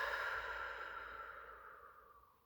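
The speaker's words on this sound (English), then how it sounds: "breathe out" A single slow, soft exhale, breathy and close, trailing off gradually into quiet.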